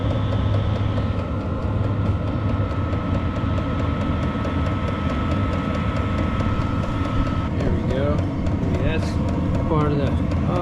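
A Vevor 8kW 12V diesel heater runs with a steady, close droning hum and low rumble that holds evenly throughout, with a few faint higher tones surfacing near the end.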